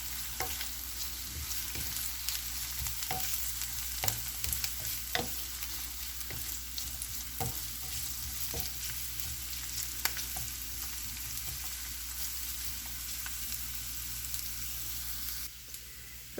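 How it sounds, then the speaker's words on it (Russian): Lightly fried onion and carrot sizzle steadily in a pan while a utensil stirs them, giving a constant frying hiss punctuated by regular scraping clicks. "К слегка обжаренному луку добавим морковку и перемешаем все это."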